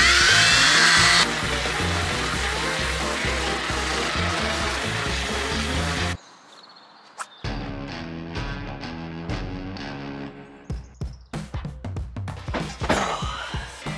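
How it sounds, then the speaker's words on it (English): An electric power sander works over reclaimed wooden floorboards, whirring loud and continuous up close for about six seconds, then stopping briefly before restarting in short, uneven bursts. "Look at that one, that needs sanding."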